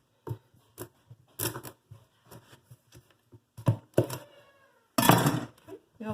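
A kitchen knife pressed through a butternut squash to halve it lengthwise, making a series of close, sharp crunching and cracking cuts separated by brief pauses, louder toward the end.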